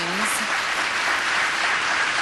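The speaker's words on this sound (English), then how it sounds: "They're giving him a round of applause" A crowd applauds steadily, a dense wash of clapping that holds at an even level throughout, with a brief voice at the start.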